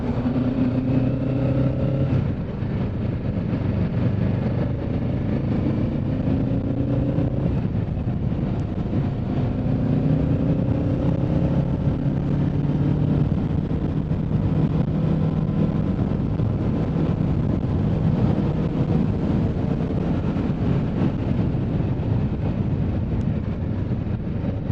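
A Kawasaki Ninja 650 cruises through unfamiliar corners at a gentle pace, its engine a continuous mid-pitched drone washed by heavy wind rush from the rider's perspective.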